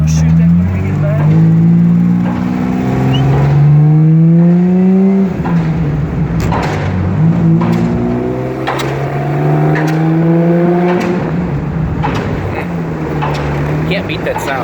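A 1953 Jaguar XK 120 engine runs steadily while driving, its tone rising and falling through gear changes. Someone talks over the engine noise throughout.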